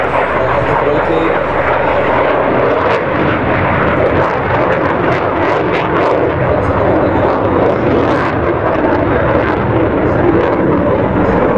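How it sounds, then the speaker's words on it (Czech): A Hawker Hurricane Mk I sweeps past at a NATO Days air display in Ostrava, its piston engine a loud, sustained roar with propeller drone, while a commentator talks over a public address. "Vidíme krásný průlet Hurricane"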